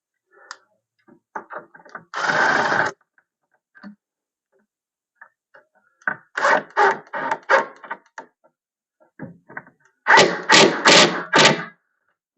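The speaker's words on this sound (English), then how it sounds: "And then I'm going to put those 2 screws in." Two screws are driven into a cabinet door hinge, heard as short bursts of a driver's ratcheting whir and clicking mixed with tapping and handling knocks, in three clustered groups with quiet gaps between.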